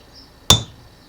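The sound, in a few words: hammering on a Mazda RX7 13B rotor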